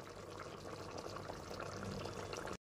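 Water poured into a pan of chicken curry on a gas stove, a quiet, steady splashing pour lasting a couple of seconds before cutting off abruptly.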